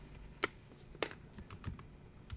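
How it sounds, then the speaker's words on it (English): A few scattered keystrokes on a computer keyboard, faint and spaced apart in a quiet room, with no talk. "So, let me type something."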